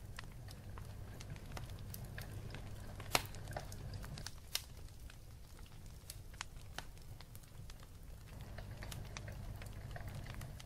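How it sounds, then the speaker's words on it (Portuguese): Water with feijoada ingredients simmers in a pot, giving a faint, quiet bed of bubbling with scattered small pops and crackles throughout, no talking. "Esperar ferver e deixar cozinhar."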